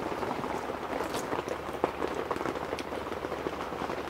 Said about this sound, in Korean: 근데 빗소리가 너무 시끄러운데?